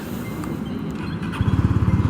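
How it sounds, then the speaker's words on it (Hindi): A Honda CB 300 F motorcycle engine cranks and fires about halfway through, settling into a close, rhythmic, pulsing idle that is louder than the low background rumble before it. "तो इस बाइक को भाई स्टार्ट करते हैं"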